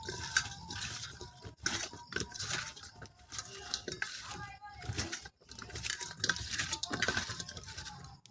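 Teasel gourd being mixed by hand with turmeric and salt in a kitchen, giving a steady wet squelching and patting, with metal bowl clinks and brief talk.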